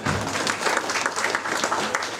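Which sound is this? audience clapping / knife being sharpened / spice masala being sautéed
audience clapping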